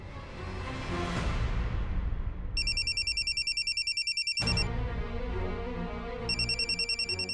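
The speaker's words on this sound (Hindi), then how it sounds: "युग का फोन इस वक्त?" A telephone rings in rapid electronic trills, with two bursts separated by a pause, over a low background rumble.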